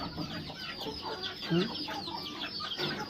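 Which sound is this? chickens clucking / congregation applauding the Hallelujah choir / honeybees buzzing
chickens clucking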